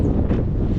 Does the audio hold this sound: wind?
yes